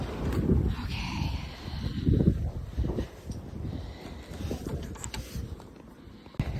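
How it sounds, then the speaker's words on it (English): Santa Ana winds gust outdoors, buffeting the microphone with a loud, rumbling roar that swells and eases in waves throughout. "Definitely windy."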